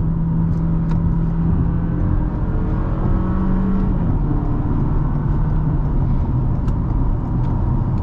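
A 2023 Toyota Camry with an 8-speed automatic transmission drives along, heard from inside as a steady engine hum and road roar with gentle shifts in pitch as it accelerates.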